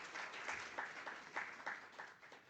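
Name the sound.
applause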